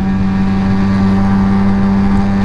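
A car accelerates in third gear with a steady, loud engine drone and a strong low hum that holds evenly throughout, close by and with no voices.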